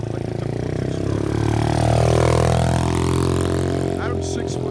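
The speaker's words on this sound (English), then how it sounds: "Has a nice exhaust note on there. It's not very loud, like the typical six-stroke." Apollo X16 125cc automatic pit dirt bike with its four-stroke exhaust, running steadily at close range, a moderate engine note rising and falling in pitch as it revs, with a brief sharper sound near the end.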